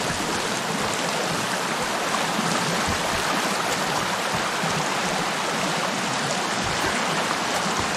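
A waterfall in the game Sons Of The Forest, a steady broadband rushing roar of falling water, continuous and fairly loud with no voices.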